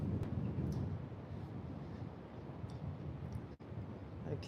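Wind gusting on a coastal creek walk, a steady low rumbling roar buffeting the microphone throughout, with brief dips and no one talking.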